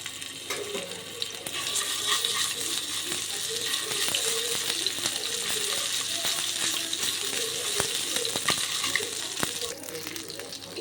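Ginger garlic paste frying in hot oil in a kadai gives a steady, close sizzle that runs the whole time, with a few sharp ticks and clinks from the pan and spoon.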